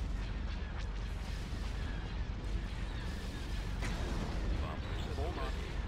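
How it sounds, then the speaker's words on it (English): Starship turbolaser batteries firing in a Star Wars fleet battle in Thrawn's Revenge: a steady, dense barrage of booming shots and rumbling blasts, held at low level throughout. "All batteries commence firing."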